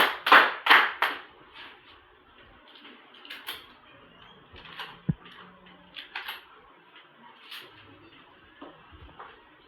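A classroom of pupils in a multi-grade class claps in a quick burst of about five sharp, close claps at the start, then trails into faint scattered taps, shuffles and room noise.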